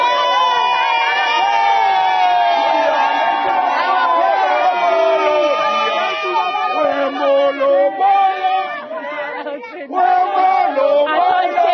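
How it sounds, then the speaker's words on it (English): A large crowd of football fans cheers and shouts in support of Bafana Bafana, the South African national team, loud and sustained with whoops, chanting voices and some nearby talk over the din. "they just cheer and support Bafana Bafana, calling them winners"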